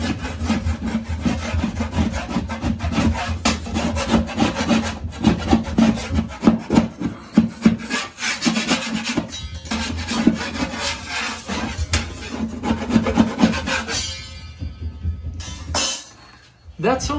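A hand scraper rasps steadily and loudly across a wall, scraping off multi-layered wallpaper residue in repeated rough strokes that continue for a long stretch before briefly pausing near the end.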